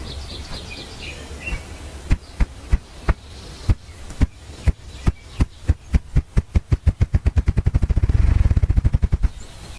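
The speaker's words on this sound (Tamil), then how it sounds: "இந்த ரஃப் கிரவுஸ் அப்படின்றது ஒரு வித்தியாசமான பறவை. இது வந்து ரெக்கையை அடிக்கும்போது ட்ரம் சவுண்டு மாதிரி கேட்கும்" Ruffed grouse drumming, played back as a recording: low, hollow wing-beat thumps begin slowly and widely spaced, then quicken steadily into a rapid accelerating roll that blurs into a whirring flutter near the end.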